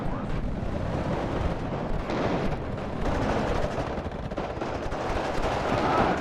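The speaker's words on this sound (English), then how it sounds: "Another MiG-25 bombing strike coming in." Bombing strike explosions from MiG-25 jets in a war video game, a dense continuous roar of blasts and rumbling gunfire filling the whole stretch at steady loudness.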